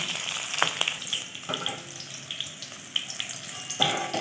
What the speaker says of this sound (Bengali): এর মধ্যে কয়েকটা কাজু দিয়ে দেবো, দিয়ে একটু ভেজে নিয়ে